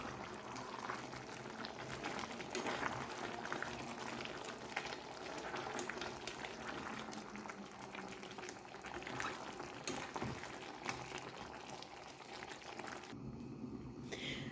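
Tomatoes with salt simmer and sizzle in a pan for a chicken karhai, a steady bubbling hiss that runs on continuously at moderate volume with faint stirring scrapes.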